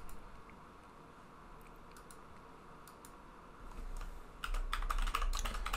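A password is typed on a computer keyboard: quiet, scattered key clicks at first, then a faster, louder burst of close typing toward the end.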